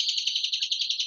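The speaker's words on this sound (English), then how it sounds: "You hear the birds chirping?" Birds chirp outdoors in a rapid, steady string of high, thin tweets, faint and somewhat distant, with no talking.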